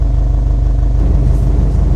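A Subaru WRX STi's 2.5-litre flat-four boxer engine gives a loud, steady low rumble throughout, close and uninterrupted, with no voices.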